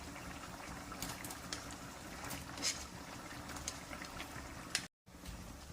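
Soya chunks dropped into a pot of boiling water give a steady bubbling, roiling wash, close and even, with a few brief clinks and one short dropout near the end.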